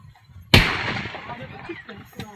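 Bomb blast in Tiruvallur, a single sharp explosive bang after a quiet start, followed by a decaying rumble and faint background noise.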